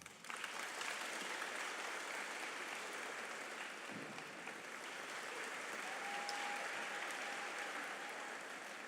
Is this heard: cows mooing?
no